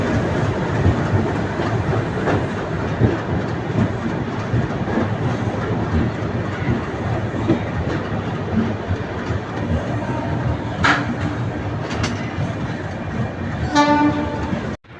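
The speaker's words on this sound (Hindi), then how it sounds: "हमारी Vidarbha express platform number 14 Chhatrapati Shivaji terminal Mumbai में इंटर होती हुई" Vidarbha Express arriving at platform 14 of Chhatrapati Shivaji Terminus, Mumbai: a steady loud rumble of wheels and carriages under station bustle, with a harmonic horn blast near the end before the sound cuts off.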